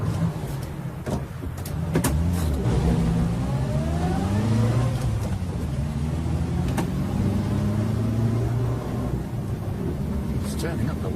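A Rolls-Royce engine revs up and accelerates, its rising and falling drone fairly close, with occasional sharp clicks and knocks over it and voices talking in the background.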